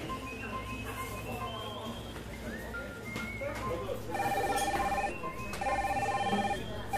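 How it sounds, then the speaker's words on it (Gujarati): A mobile phone rings with an incoming call, sounding as two bursts of repeating electronic tones, moderately loud, under ongoing talk and a busy background murmur. "જો આંટી, ફોન તો આવે છે."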